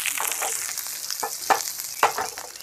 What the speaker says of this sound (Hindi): हमें अदरक, लहसुन और हरी मिर्च को एकदम गोल्डन ब्राउन होने तक भूनना है